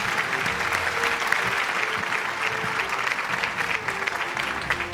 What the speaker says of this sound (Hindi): आपकी भरपूर तालियां होनी चाहिए खातिनों हज़रात लकी ड्रॉ के लिए